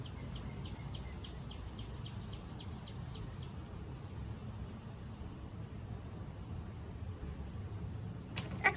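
Birds chirp outdoors after rainstorms, a quick series of short, high, evenly spaced calls in the first four seconds, faint and somewhat distant over a constant low rumble of background noise.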